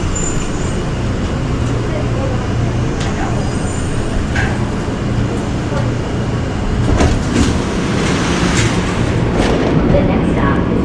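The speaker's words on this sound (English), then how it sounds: "Welcome aboard the plane train. Please hold on. This train is departing." Airport plane train, an automated people mover, running steadily with a continuous low rumble and rolling noise from inside the car, swelling slightly toward the end; faint voices or announcements sit under the ride noise.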